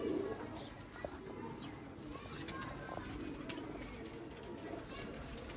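Lal Pari pigeons coo softly in a loft, with low throaty calls and faint chirps heard at low volume amid background noise and someone talking.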